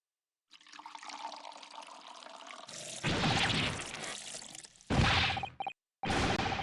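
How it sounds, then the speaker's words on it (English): Scalding hot tea poured in a video game, heard as a splashing, gushing burst of liquid that cuts in and out in loud bursts, broken by short gaps and whooshing game effects. "Joe, you're pouring scalding hot tea over me."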